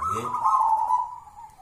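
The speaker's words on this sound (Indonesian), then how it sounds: "pecinta anggungan perkutut lokal" A single soft, drawn-out zebra dove coo, a mellow tonal call that wavers slightly and fades out near the end.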